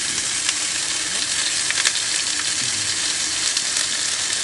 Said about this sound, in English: throwing one of those steaks in there to get a good sear on it once it gets nice and hot